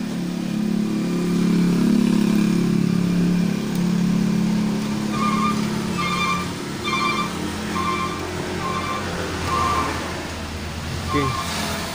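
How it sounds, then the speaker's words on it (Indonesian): A Sanyo freezer refrigerator with a cooling fault, its compressor switched on and running with a steady, close, vibrating low hum that holds throughout, with faint lighter ticking above it. "Mesin juga bergetar ya teman-teman."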